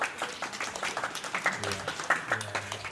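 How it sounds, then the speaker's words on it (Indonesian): An audience at a discussion forum claps and applauds steadily for about three seconds, fairly quiet and diffuse, with some voices murmuring underneath. "Tepuk tangan buat Mas Buli."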